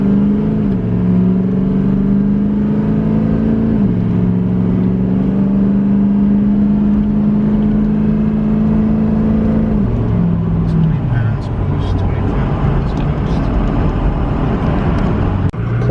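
A pickup fitted with an Edge CTS 2 tuner accelerates hard onto blacktop, its engine note climbing steadily in pitch, easing off, then climbing again near and loud, with a drop in revs as it shifts late on.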